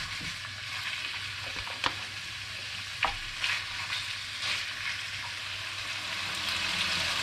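Chicken pieces fry in a pan, giving a steady close sizzle with a few sharp stir clicks and scrapes as they brown; no talking.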